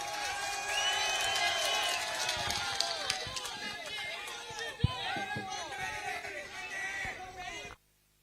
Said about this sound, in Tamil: அனைவரும் அவர்களுக்கு கரகோஷம் கொடுத்து அவர்களை வரவேற்பு கொடுக்குமாறு கேட்டுக்கொள்கிறேன்.